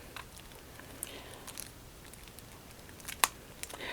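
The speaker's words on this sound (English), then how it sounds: "I'll see if I can get these cards open." Wrapped game cards from a Kutná Hora: The City of Silver board game box being opened: faint, close crinkling and small plastic clicks, then one sharp snap of wrapping near the end, with no talk.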